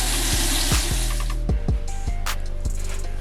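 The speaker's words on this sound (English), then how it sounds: "I'm gonna wash the hair." Tap water runs steadily while 20-inch afro kinky curly hair is washed, a continuous close splashing hiss with a few sharper knocks and handling sounds, no talking.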